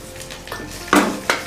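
Asafoetida and curry leaves dropped into hot oil give a short burst of crackle and sizzle, with a couple of sharp spoon clinks against the pan, close and brief.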